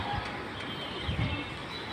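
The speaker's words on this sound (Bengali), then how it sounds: "এটা হচ্ছে যে কালো কবুতর দুইটা" Two black pigeons coo softly in low, murmuring calls over a steady background hum, faint and close.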